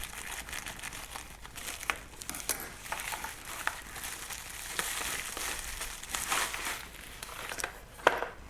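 A crowd cheers and whoops continuously at a 2014 ARCA stock car race, with a commentator talking over the noise and engines faintly in the background.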